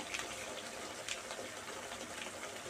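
Water is poured into a pan of simmering dried-fish curry (karuvattu kulambu) with masala, giving a continuous close splashing, gushing pour for a few seconds with no talk.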